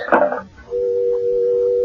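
Telephone dial tone in a 1975 CBS Radio Mystery Theater drama, a brief clatter of the receiver being picked up, then a steady, loud continuous hum that holds to the end.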